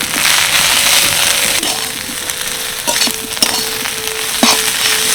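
Moringa leaves and potato stirred in a pan with turmeric and chili powder, a loud continuous sizzle with scattered scraping knocks of a spoon against the pan.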